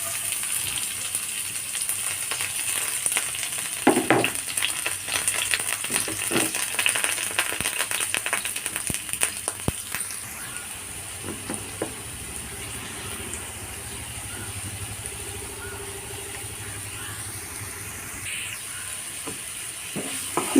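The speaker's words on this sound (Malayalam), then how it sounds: "ഇനി നമുക്കിതിലേക്ക് എല്ലാം സവോളയും പച്ചമുളകും വേപ്പിലയും വെളുത്തുള്ളി എല്ലാം കൂടി ഒരുമിച്ച് തന്നെ ഇട്ട് കൊടുക്കാം കേട്ടോ" Onions, green chillies, curry leaves and garlic sautéing together in a pan: a soft sizzle with a few scraping stirs and clinks early on, then a quieter, steady frying hiss.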